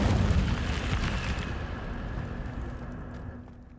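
The Incendio fire spell goes off in a Harry Potter video game, a loud roaring whoosh of flame that swells at once, then gradually fades and thins over a few seconds.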